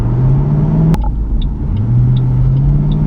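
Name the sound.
2008 Ford Mustang GT engine while driving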